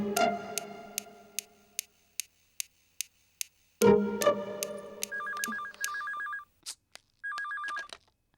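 A telephone rings in a Tamil TV serial scene, first as a run of sharp repeated bell strikes, then as electronic warbling ringtone bursts in a regular pattern, loud and close with no talk.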